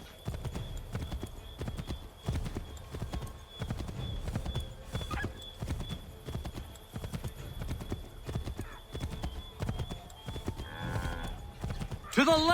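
Horses gallop in the Assassin's Creed III video game, a steady close clip-clop of hooves with a brief whinny near the end, while voices speak over it.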